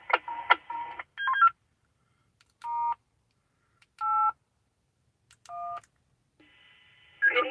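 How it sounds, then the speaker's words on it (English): DTMF dialing tones on a linked GMRS radio network, a garbled burst of tones followed by four separate clean beeps spaced about a second apart, with another tone burst at the end over silence. "Somebody's dialing around."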